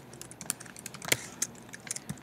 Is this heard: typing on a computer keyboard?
yes